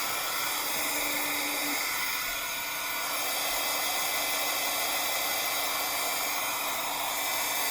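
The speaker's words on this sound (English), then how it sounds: "let's heat emboss it" A heat gun blows a loud, steady rushing hiss of hot air over a stamped card for heat embossing, running continuously throughout with a faint tonal whine underneath.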